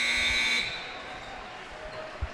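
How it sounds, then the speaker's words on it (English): A basketball scoreboard buzzer at a high school boys game marks the end of the first half, blaring loudly for about half a second before cutting off, leaving low gym noise behind. "Rebound offensively by Merriman, who then hoists one at the buzzer, couldn't get it to go."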